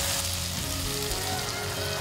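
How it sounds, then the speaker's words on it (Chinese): Fried shallots stir-fried with lard and dried shrimp in a hot pan, giving a close, steady sizzle and crackle that continues without a break and with no voices. "闻着油葱酥混合的猪油、虾米一起爆炒的味道"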